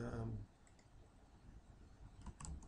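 Computer mouse clicks while working in Civil 3D software, a few faint, quick clicks near the end, following a voice explaining the steps.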